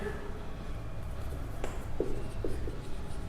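Marker or chalk writing on a board in a classroom accounting lesson, a few short faint strokes and taps over steady room hum, no talk.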